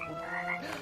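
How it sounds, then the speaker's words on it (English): A toad croaking in a movie scene, a single short, rough, buzzing croak heard clearly and alone. "Ribbit."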